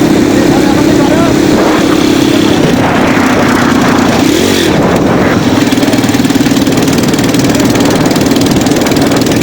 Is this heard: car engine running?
yes